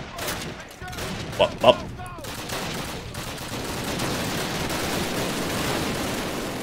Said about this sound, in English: Who was shooting? And from where?